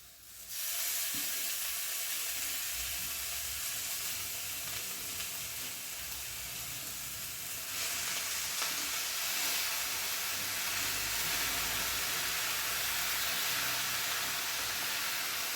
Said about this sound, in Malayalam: ഇപ്പം നമ്മുടെ ചിക്കൻ മാരിനേറ്റ് ചെയ്ത് വെച്ച ചിക്കൻ ഇടാം